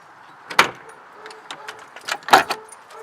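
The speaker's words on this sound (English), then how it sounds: "So now I can open my back doors" Back doors of a car opening, with bikes held on a rear bike rack: two sharp latch clunks about two seconds apart, with rattling and handling noises between them, close by.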